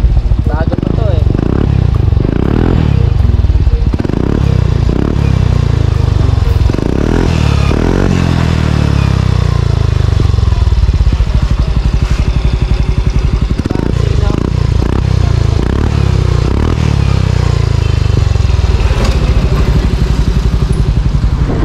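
A Honda MSI 125 motorcycle fitted with an Exos X6 exhaust muffler revs up close, with repeated throttle blips rising and falling over a rumbling idle.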